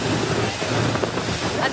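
A boat speeds across lake water, with a constant rush of water spray and wind buffeting the microphone, loud and close.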